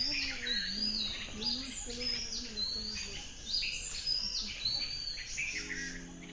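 Birds at Ranganathittu Bird Sanctuary, on small river islands of the Cauvery in Karnataka, trill and whistle in overlapping bright calls, with a lower repeated call and insect buzz beneath, moderately close and continuous.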